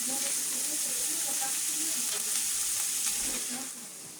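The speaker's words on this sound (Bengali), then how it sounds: "এবার আগে থেকেই যে ভিজিয়ে রাখছিলাম ছোলা বুটগুলো এগুলো দিয়ে দেব।" Chickpeas soaked 8–10 hours hitting a hot frying pan for chola bhuna, a loud close sizzle that holds steady for several seconds before easing off slightly at the end.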